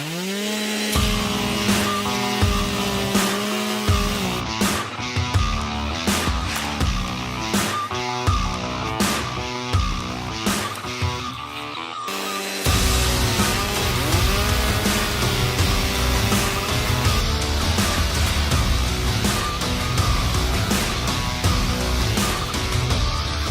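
Gas and electric chainsaws rev and roar as they bite through the same branches in repeated cuts, loud and close, with the second saw taking over partway through.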